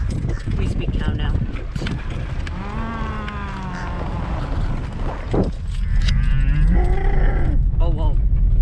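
Cattle mooing along a bumpy rural road near La Huasteca Potosina, several long drawn-out low calls close by over engine rumble and people talking.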